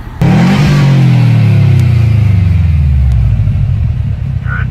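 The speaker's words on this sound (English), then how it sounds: "Your STI sounds amazing." A Subaru STI engine roars loudly and close, surging in a deep, throaty rev that slowly falls in pitch and then holds a rumbling idle, with no one talking.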